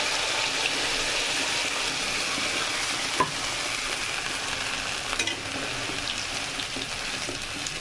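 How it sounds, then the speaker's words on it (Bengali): Shol fish kalia spice paste fries and sizzles steadily in a pan, with occasional scraping clicks of a stirring spoon, close and continuous without talk. "ভালো করে ভাজবো।"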